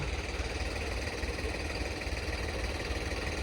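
A New Holland 5620 tractor engine idles with a steady, low, rumbling drone and a faint rapid pulse, close and continuous throughout.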